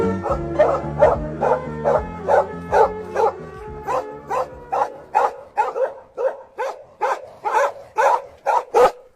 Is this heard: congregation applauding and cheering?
no